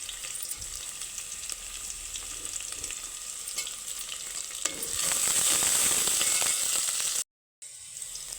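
Chopped green chillies frying in hot oil with peanuts and curry leaves in a pan, a steady crackling sizzle that grows louder and hissier midway, with faint stirring clicks and a brief cut to silence near the end.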